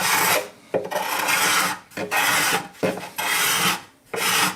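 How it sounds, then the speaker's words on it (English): A file rasps dried glue off a bare basswood brace on a handmade acoustic guitar in a close series of about six long, harsh strokes with short pauses between them. "You want to get rid of this glue and get it to the point where it's just getting down to the bare wood"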